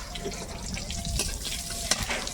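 Black cumin seeds sizzle softly in hot oil, with a few clinks of a spoon stirring the pan.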